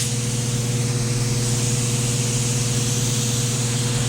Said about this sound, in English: we're gonna plug in our primer gun. Now it's gonna be really high pressure